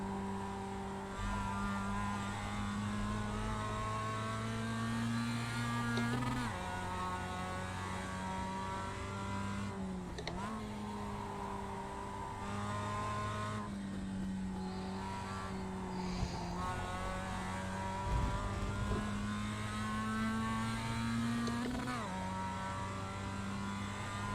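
A Global Mazda race car in iRacing on the Charlotte Roval, its engine droning steadily through several gear changes with pitch dips and rises as it downshifts for corners, under faint commentary.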